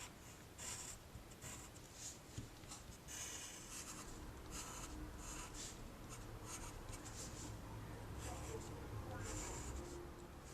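A pencil scratches across paper in quick repeated strokes, darkening drawn lines; the scratching is soft and close, with a steady rhythm over several seconds.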